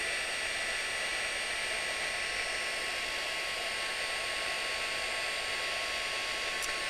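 A hair dryer blows a steady, even whoosh of air over wet glitter pen ink on paper, constant and close with no talking.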